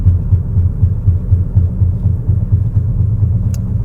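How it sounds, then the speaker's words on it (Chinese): A Lexus RX 350 on Bridgestone Alenza 001 tyres rolls over rumble strips, giving a steady low rhythmic thudding and droning rumble from inside the cabin, close and continuous, with no talk. "你看我现在在这种减速的 stripes"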